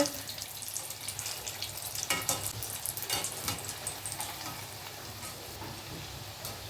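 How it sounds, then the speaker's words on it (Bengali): Kofta balls for malai kofta frying in a pan of boiling oil, a steady close sizzle with brief stirring scrapes and bursts around the middle, no voices. "দেখুন এটা কিন্তু একদম ফুটন্ত তেলে ভাজা হচ্ছে।"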